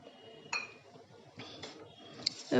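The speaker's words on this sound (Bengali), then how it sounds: "এবার দুধটা খুব ভালো করে মিশিয়ে নেব।" Powdered milk being stirred into eggless orange cake batter in a bowl, a few faint clinks and scrapes of a utensil against the bowl at intervals, quiet and close with no talk.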